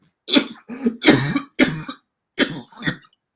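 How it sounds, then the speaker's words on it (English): A run of deep, chesty coughs, six or so heavy bursts in quick succession, close and loud with short gaps. "I've got a chesty cough."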